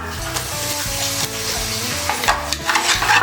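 Ginger garlic paste and tomato sizzle loudly in a hot pan for a Kerala chicken kurma, with steady frying crackle and repeated stirring scrapes in a regular rhythm, no voices.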